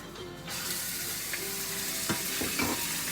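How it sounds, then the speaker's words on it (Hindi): Chicken frying in a little oil in a pan, a dense continuous hiss and sizzle with a few brief scraping stirs toward the end, heard up close without any talking. "सबसे पहले हम ये थोड़ा सा ऑयल डालेंगे और इसमें हम चिकन को डाल देंगे।"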